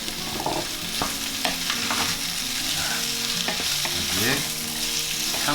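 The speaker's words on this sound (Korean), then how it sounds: "바닥이 이제 달라붙으려고 할 때 떡을 넣고 살짝 볶아주겠습니다." Rice cakes stir-fried with potatoes in a pot, with a steady sizzle overlaid by repeated scraping and clattering stirring strokes, close and busy throughout, without speech.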